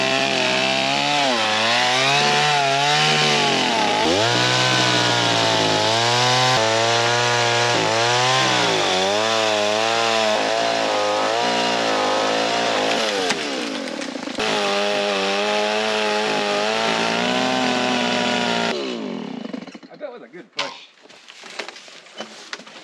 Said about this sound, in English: Oh, this is the world's finest chainsaw. It is a MS-170.